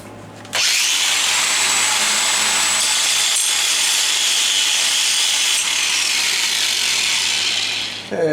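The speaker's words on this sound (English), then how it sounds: "I'll freehand grind that." A grinder freehand shapes an inside radius on a metal part for a Tru-Line 8 installation, giving a steady, loud, continuous abrasive whine that holds for about eight seconds without speech.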